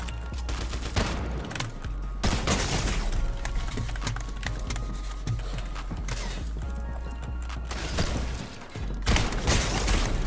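Rapid gunfire in a shooter video game, with bursts of shots crowding together loudly over a dense, busy mix of game noise that runs throughout.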